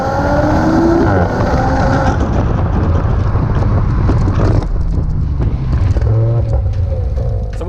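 A 2019 Audi RS5 Coupe's V6 engine roars under full throttle, revs rising and shifting gears, with wind rushing over the microphone, loud and sustained.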